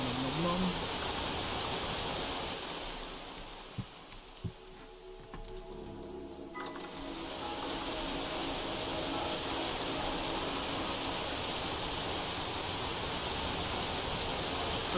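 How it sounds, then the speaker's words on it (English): Steady hissing rain in the video game Vintage Story fills the scene, briefly thinning in the middle with a few soft knocks and tones, then returning as a constant wash. "My problem is that this rain won't go away."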